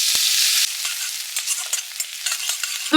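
Crushed black pepper, cinnamon and finely chopped ginger and garlic sizzle in butter and a little oil, a bright close hiss that eases after a moment into crackling and spattering under light stirring.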